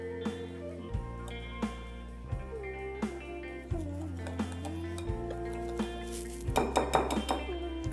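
A spoon scrapes and clinks against a bowl while shrikhand is mixed, with irregular close taps over a steady tonal musical backdrop and a busier flurry of clinks near the end.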